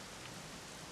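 Steady rainfall in the video game Dragon Quest XI S, a soft, even hiss of rain with no voices, brief and fairly quiet.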